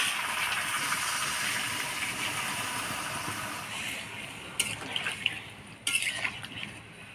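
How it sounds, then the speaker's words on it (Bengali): A little water is poured into a sizzling egg, potato and cauliflower curry, with a steady hiss followed by a few sharp splashes and bubbling bursts near the end. "এবার অল্প করে জল দিয়ে দিব।"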